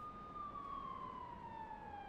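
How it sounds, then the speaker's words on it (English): A police siren from the video game Persona 5 Royal wails steadily with a smoothly falling pitch, loud and continuous against background noise, with no talking over it. "Look at all the police car. Was wee woo. Wee woo."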